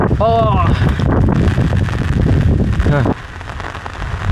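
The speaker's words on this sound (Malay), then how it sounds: "Angin kuat." Strong wind buffets the microphone with loud, rough rushing noise at the entrance to Ceuta, Spain, while people talk over it and the roar eases slightly near the end.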